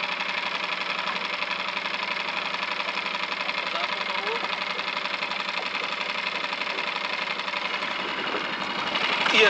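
A boat engine runs steadily while a pike is reeled in, a continuous mid-pitched droning hum with a fine rattling vibration, close and even throughout, growing slightly louder at the end.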